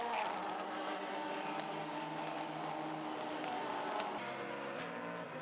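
SUPER GT race cars, including Lexus LC500s battling for the lead, roar past at a circuit, a steady engine drone with shifting pitch, heard at a distance and fairly faint.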